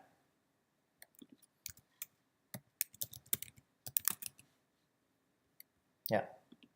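Computer keyboard typing in an office setting while entering letterhead text, with scattered clusters of key clicks and short pauses, fairly close and moderately loud, ending on a softer thump.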